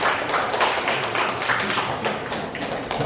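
A ninth-grade class bursts into dense, steady applause for a student who has just spoken, many hands clapping at once in a classroom.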